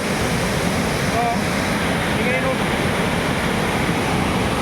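Barabakhra waterfall in Bargarh, western Odisha, pouring down with force: a dense, continuous rushing roar, loud and unbroken, with faint higher sounds briefly above it.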